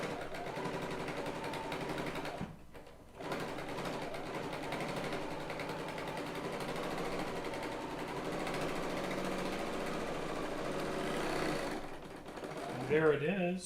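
A Bernina L890 serger stitches quilt binding with a continuous rapid mechanical whir, pausing briefly once and resuming, with faint talk underneath.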